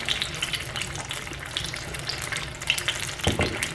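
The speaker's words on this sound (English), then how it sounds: "this is just the fish cooking on the inside and letting some of the water out." Beer-battered fish frying in hot oil in a Ninja Foodi, a continuous close sizzle and crackle with steady bubbling and occasional sharper pops, no voices.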